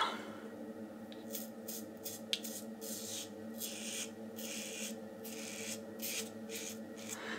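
A Yates Titanium 921-M safety razor fitted with a Treet carbon blade scrapes across stubble close up, with rapid rhythmic rasping strokes broken by brief pauses.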